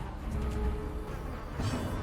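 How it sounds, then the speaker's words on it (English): Insects in the Darkest Dungeon game give off a low, wavering buzz that swells and fades in soft pulses, quiet and close, with no talk. "Oh man, the bugging buzz noises."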